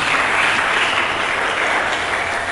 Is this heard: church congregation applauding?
yes